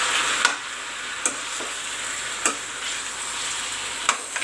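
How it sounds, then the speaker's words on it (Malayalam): Tapioca in a coconut mixture sizzles steadily in a pan while a spoon scrapes and stirs in regular strokes roughly every second. It is close and without talk, as kappa puzhukku is cooked. "ഇനി നമുക്കിതിലേക്ക് കൊള്ളി ഇട്ട് കൊടുക്കാം."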